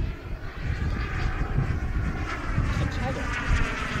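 Model turbine glider coming down onto a runway, its steady jet-turbine whine and rushing engine noise continuous and fairly loud outdoors, with faint voices in the background.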